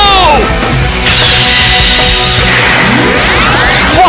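Anime Synchro Summon sound effect from a card-game duel: a loud, dense blast of whooshing, rising and falling sweeps with a sharp crash-like burst partway through, all continuous and energetic.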